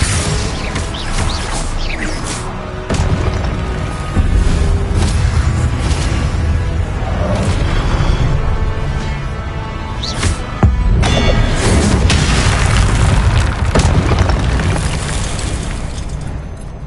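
Spell explosions in the video game Hogwarts Legacy on PS5 form a dense, loud, continuous stream of booms, bursts and crackling effects, with sharp blasts standing out from the steady din.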